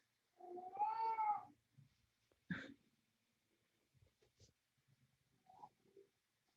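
A pet cat gives a clear, drawn-out meow near the start, followed by a couple of softer, brief vocal sounds and faint rustling in an otherwise quiet room.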